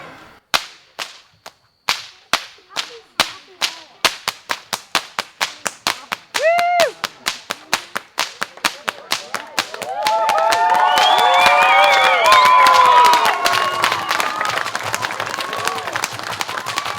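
Nathan Whippy Griggs snaps a whip in a long run of sharp, loud cracks at a steady, quickening rhythm before an audience, then applause and cheering swell and carry on as the cracks continue.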